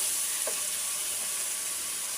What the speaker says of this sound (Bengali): মাছ দিয়ে সুন্দরভাবে আবারও অনেক সময় ধরে কষাতে হবে।